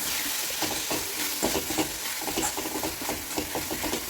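Spices with coriander powder and chili powder being sautéed in a pan, a steady close sizzle with repeated scraping stir strokes throughout.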